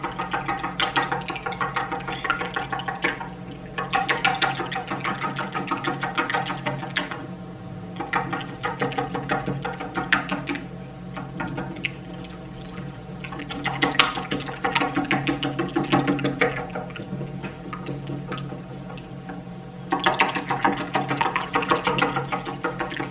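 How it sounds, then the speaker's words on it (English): Three eggs beaten for a fried ice cream coating give a steady, continuous mechanical whirring with a ratchety edge. It runs unbroken and fairly loud for the whole stretch, with no talking. "So I am whisking my eggs now."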